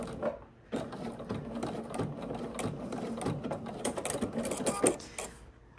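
A sewing machine backstitches a seam on a pair of pants, running in a continuous close mechanical whir with small stops and ticks, fairly quiet, with a brief pause near the start.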